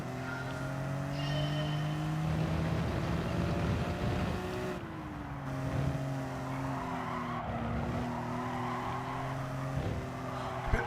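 A Nissan R50 GTR in a racing video game drones with a steady, buzzing engine note that rises and falls as it shifts, with brief tire squeal and no talking over it.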